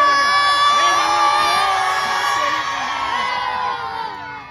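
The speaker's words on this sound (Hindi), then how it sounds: "लोग रश देखें, बच्चों का शोर देखें" A crowd and many children shout and cheer loudly at a cow market in New Karachi during animal unloading, a dense, continuous wall of overlapping voices that eases slightly toward the end.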